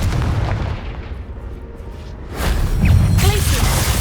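Confringo, an explosive spell cast in the Hogwarts Legacy video game, bursts with a loud rumbling boom and a rushing whoosh, followed by crackling debris under a dense roar.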